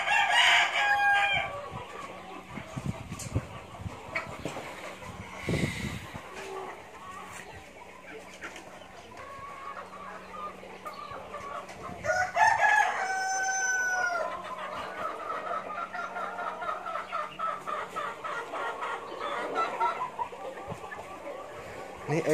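Black Knight chickens kept for sale make a close, clear crow near the start, then scattered clucks and another crowing call, heard over faint background noise.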